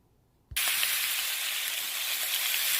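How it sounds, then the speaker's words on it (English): Beef short ribs hitting hot oil in a pan, a sudden loud sizzle that starts after half a second of quiet and then holds as a steady, bright frying hiss. "we are going to brown our meat, and we are going to let this go on a medium heat until our meat is brown"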